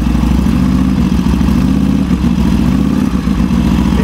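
A Harley-Davidson Sportster motorcycle engine runs loud and close, being held at raised RPM during a charging-system test, with a steady rumbling throb throughout and no talk.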